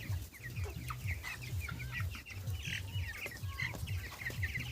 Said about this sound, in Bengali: আজকে চলে যাব সরাসরি এইসব মুরগিদের কাছে